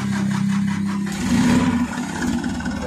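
Mitsubishi Canter 125 PS truck engine, badly tuned and sluggish, revving as the throttle is pressed, a close loud mid-pitched roar rising from idle and then easing back over a few seconds, with no talk.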